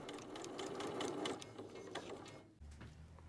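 Sewing machine stitching around the inside of a dress sleeve seam, a close steady rattling hum of rapid needle strokes that stops partway through, leaving a faint low mechanical idle.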